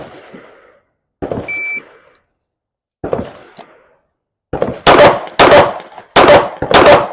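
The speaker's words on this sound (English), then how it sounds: "we're going to do Glock 19X drill, 2 rounds per position" Glock 19X handgun fired in a timed shooting drill, two rounds per position: sharp, loud broadband cracks in quick pairs and groups near the end, preceded by quieter thuds and a brief beep, with no talk.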